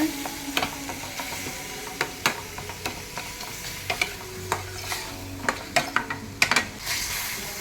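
Vegetable kurma ingredients being stirred and mixed in a sizzling pan, close by, with a soft frying hiss beneath irregular spoon taps and scrapes against the metal over several seconds and no voices.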